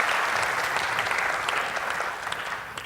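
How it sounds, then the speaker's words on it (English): Sustained applause from a conference audience after a technical talk, a dense wash of clapping that stays steady and loud before easing slightly near the end. "One more round of applause."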